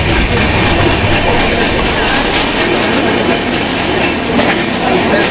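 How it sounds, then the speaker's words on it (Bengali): The 13150 Kanchankanya Express rushes through Dum Dum Junction, a loud, close, continuous roar of rolling wagons with rhythmic clickety-clack from the wheels, no voices. "দমদম জংশন পার করছে বন্ধুরা, আর এটা হচ্ছে 13150 কাঞ্চনকন্যা এক্সপ্রেস"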